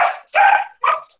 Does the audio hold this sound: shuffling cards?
no